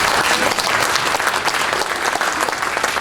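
Loud, close applause fills the room at a candidate forum for a Collin County district court race, a dense burst of many hands clapping steadily throughout.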